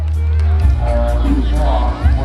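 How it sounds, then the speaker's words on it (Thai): An audience at a children's Noppamas pageant at a Thai temple cheers and claps for a young girl contestant, a busy crowd roar blended with a low humming background and voices. "สียงปรบมือให้กับน้องเนิร์ดหน่อยครับ"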